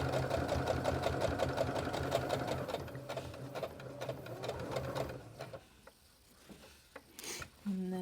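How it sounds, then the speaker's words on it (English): A sewing machine stitches over elastic on a fabric face mask, running steadily and loud for about five seconds before slowing and stopping, followed by quieter handling noises and a brief voice. "we're gonna just sew over the top of that"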